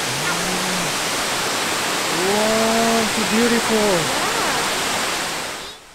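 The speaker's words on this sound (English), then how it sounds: "This is the Kuang Si Waterfall." Kuang Si Waterfall near Luang Prabang rushes in a steady, full roar of falling water that stays constant, with a person briefly speaking over it.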